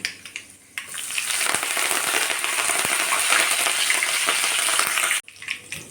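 Asafoetida, curry leaves, bay leaves and spices hit hot oil for kadhi with a sudden loud burst of sizzling and crackling that holds steady for several seconds, then cuts off abruptly.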